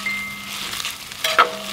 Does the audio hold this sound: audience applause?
no